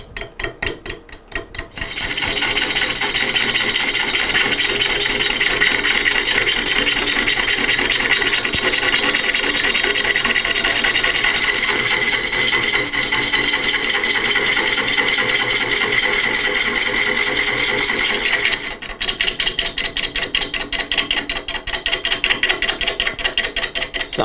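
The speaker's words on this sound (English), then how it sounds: "I'm so glad I've got a robust lathe because this thing weighs 700 and something pounds" A heavy crotch wood piece spins on a robust lathe weighing over 700 pounds. A loud, steady scraping whirr runs throughout, with a rhythmic chatter that becomes more pronounced near the end.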